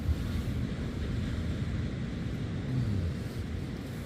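Sea waves washing onto a Northumberland beach, heard from inside a closed tent, a steady low muffled roar of surf with light wind rumble and no talk.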